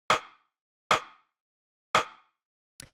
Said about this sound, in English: the first thing I'm going to show you here is the rim shot